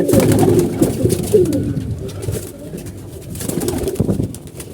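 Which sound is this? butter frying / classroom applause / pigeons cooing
pigeons cooing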